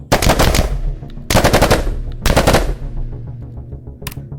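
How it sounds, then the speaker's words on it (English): A full-auto laser rifle in a VR shooter fires three loud, rapid bursts, each a dense stutter of shots, with a ringing decay and one faint click at the end and no voices. "A rifle, which has same laser and is full auto."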